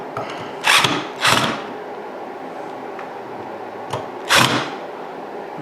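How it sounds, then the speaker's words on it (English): Metal screws being driven into a ceiling fan mounting bracket on an outlet box, heard as three short, bright rasping bursts with pauses between, close by against a quiet room. "now I'm screwing the mounting bracket into the outlet box"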